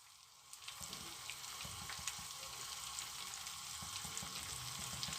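Oil poured onto a hot charcoal ember on foil beside chicken sizzles and crackles steadily, close and fairly quiet, with small pops and no talking.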